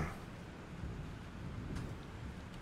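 A thunderstorm in the video game Life Is Strange: a low, steady rumble of thunder with a soft hiss of rain, heard alone and fairly faint throughout.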